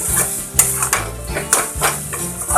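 Raw chickpea paste drops into spices frying in a pan for a vegetarian dhokar dalna, with a steady sizzle and repeated scraping, stirring sounds of a spatula close up.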